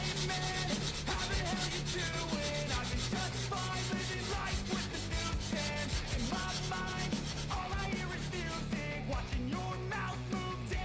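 Washer cabinet rust being hand sanded with 220 grit sandpaper, a quick, steady scrubbing rasp of short repeated strokes close by, running continuously throughout.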